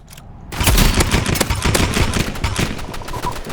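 Rapid gunfire from the video game Rivals, a dense, loud burst of shots starting after a brief quiet moment and continuing steadily to the end, with no talk over it.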